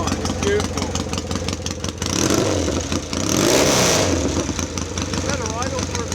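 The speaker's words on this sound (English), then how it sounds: "Sounds like a Triumph should." Triumph motorcycle engine revving in a workshop, a steady mid-pitched drone that swells louder in the middle, with voices talking over it.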